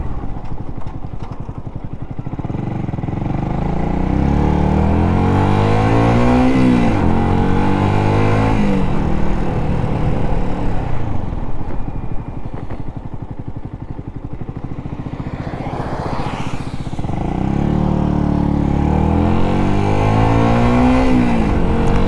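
Yamaha YZF R125 motorcycle ridden through a winter forest road, its small engine droning loudly and continuously with repeated rising revs and gear changes.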